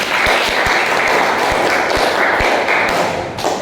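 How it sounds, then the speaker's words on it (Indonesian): Students in a classroom applauding a classmate named Rizky, steady close clapping from many hands with a few heavier thumps mixed in, lasting the whole moment with no talking. "kita kasih aplaus untuk Rizky"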